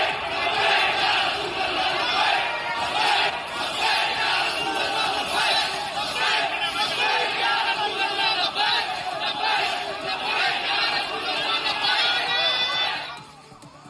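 A large crowd shouting religious slogans in unison, a dense, loud, continuous roar of many voices with rhythmic surges, ending abruptly near the close.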